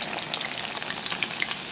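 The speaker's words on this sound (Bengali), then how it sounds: "তেলটা হালকা গরম হয়ে নেক, তারপরে দিয়ে দেবো পেঁয়াজ। এখন দিয়ে দিচ্ছি আস্ত 3টা পেঁয়াজ কুচি করে রাখা" Three whole chopped onions hitting about two cups of warm oil alongside meat, a dense, bright crackling sizzle that stays loud and continuous throughout, close up and without any voices.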